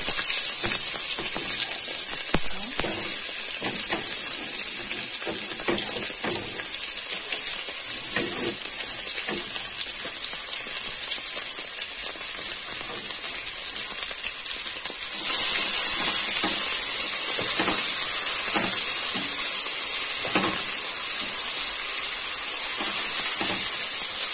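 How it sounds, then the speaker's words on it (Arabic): Chopped onion fries in oil in a pot alongside a bit of fat, a steady close sizzle that stays constant and grows slightly louder partway through, with occasional stirring scrapes. "بحمر كده بصلايه"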